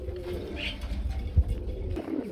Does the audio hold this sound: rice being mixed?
no